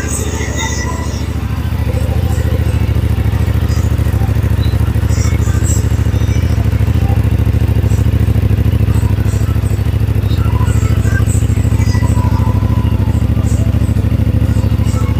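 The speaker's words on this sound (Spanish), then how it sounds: "vamos a dejar lo que es el tema de su sonido de escape para que puedan apreciarlo" A 2024 CFMoto 450SR sport motorcycle engine runs steadily with a deep, continuous exhaust rumble, loud and close, idling or held at constant revs throughout.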